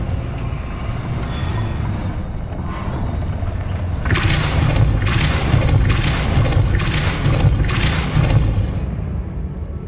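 Casting Depulso in Hogwarts Legacy sets off a low rumbling boom, then a run of rhythmic grinding crashes like heavy stone shifting. The sounds are loud and fill about half a minute's span, and no voice is heard.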